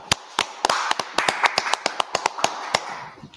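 Hands clap in an uneven burst of about fifteen sharp claps, close and crisp, with a hum of background noise between them.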